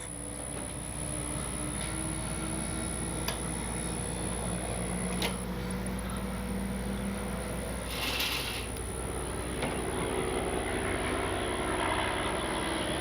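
An RC P-38 model airplane passes by with a steady, moderately distant engine drone that swells slightly midway, set against outdoor background noise.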